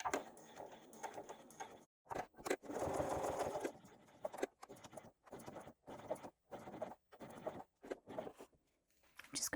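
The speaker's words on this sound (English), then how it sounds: "I'm going to back stitch about 1/2 inch beyond where my mark is, back stitch up to the mark, and then continue all the way around." A sewing machine stitches around a clutch bag in short runs, stopping and starting as it back stitches, with a longer steady burst early on, close and clear between quiet pauses.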